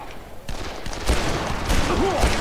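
Weapon fire in the zombie game Dead Island: rapid bursts of gunshots with a harsh, noisy crackle, fairly loud and close, while someone talks.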